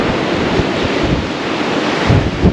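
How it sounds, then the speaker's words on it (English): Strong wind buffets the microphone on a cruise ship balcony at sea, a loud continuous roar of gusts mixed with the wash of waves. "it's still quite windy"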